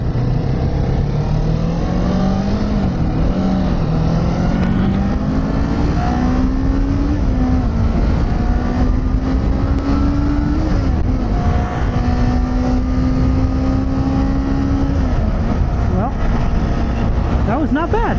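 A Kawasaki Z400 motorcycle is ridden, its engine droning loud and close as it climbs through the revs in gears, pitch rising, dipping at shifts and rising again, with wind rush and a rider talking over it.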